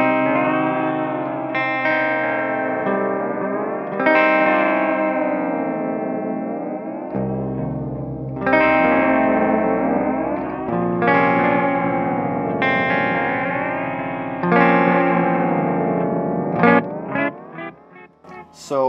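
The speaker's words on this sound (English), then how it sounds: "It's almost kind of a chorus effect, but if you crank it, you can get some really nasty sounds." An electric guitar plays through an Ibanez ES2 Echo Shifter pedal cranked to a chorus-like, nasty wobbling setting. Sustained, pitch-bending notes repeat and swell loudly with echo and distortion, and quick picked notes come near the end.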